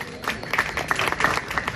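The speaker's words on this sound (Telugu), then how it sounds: "ఒకసారి చప్పట్లు కొట్టండి." A church congregation breaks into brief, scattered clapping that swells and thins over a couple of seconds, fairly close and loud, with faint voices mixed in.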